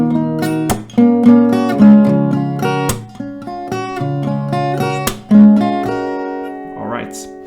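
An acoustic guitar plays a melody mixed with down-strums and sharp hand claps, near and loud, the picked notes ringing between percussive clap accents.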